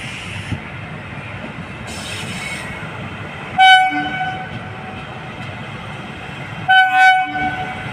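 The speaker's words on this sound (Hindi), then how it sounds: "अमरनाथ एक्सप्रेस छपरा जंक्शन के प्लेटफॉर्म नंबर 1 पर अराइव हो रही है।" The Bhagalpur–Jammu Tawi Amarnath Express pulls into platform 1 at Chhapra Junction, a steady rail rumble with hissing that swells twice as close, bright horn-like tones sound over the rolling wagons.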